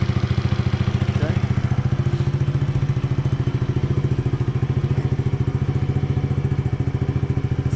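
An Icebear Maddog Gen4 scooter, a Ruckus clone, idling close by with a steady low, even putter that holds unchanged throughout, with a faint brief sound over it early on.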